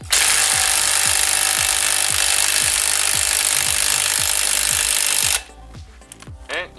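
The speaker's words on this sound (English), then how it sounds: "We're going to remove the bolt now." Loud continuous power-tool whine with rhythmic low thuds, like an impact wrench, loosening the bolt on a motorcycle rear sprocket, running steadily for about five seconds before cutting off into quieter clanking.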